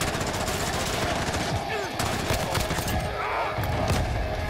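Sustained automatic gunfire in Call of Duty: Modern Warfare rattles in a dense, continuous stream of rapid loud shots, with someone talking excitedly over it.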